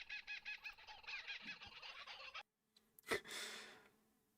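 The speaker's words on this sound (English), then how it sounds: "that sounds exactly like a kookaburra" A bird call in the board game app Ark Nova resembling a kookaburra: a rapid, rhythmic cackling series for about two seconds, then a pause and a sharp breathy burst fading out.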